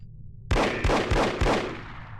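Four heavy gunshots boom in quick succession in the video game No One Lives Forever, each a loud, close blast with a short echoing tail, following a brief quiet hum.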